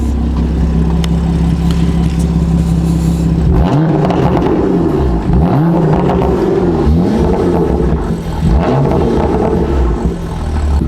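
A BMW F82 M4 with a Valvetronic exhaust idles loudly up close, then revs repeatedly in sharp rising and falling sweeps, with a deep burbling rumble between blips.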